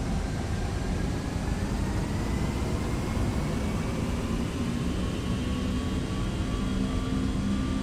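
The engines of a Boeing 757 in X-Plane 12 spool up for takeoff in a loud, continuous rumbling roar with a steadily rising whine, heard from inside the aircraft.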